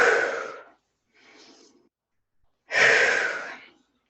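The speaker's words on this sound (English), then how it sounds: "take your deep breaths" Deep, slow breathing during a guided meditation: a long, breathy exhale, a faint softer breath, then another strong airy exhale, close and alone in quiet.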